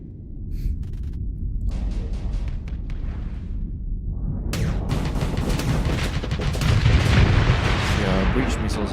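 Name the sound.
breach missiles firing in video game Starsector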